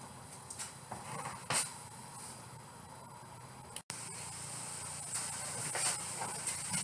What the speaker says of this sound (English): this is smoking away nicely here, okay, and cooking at the same time